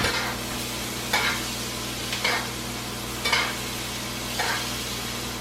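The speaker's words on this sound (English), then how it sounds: "So that we can start basting this." A steak cooking to medium rare sizzles steadily in a pan with butter and garlic, and a brighter hiss rises every second or so as the fat is spooned over it.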